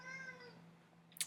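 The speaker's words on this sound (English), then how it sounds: "There's my cat crying." A cat cries with a single drawn-out meow that fades, followed by a brief sharp noise near the end, heard faintly and indoors with no talk.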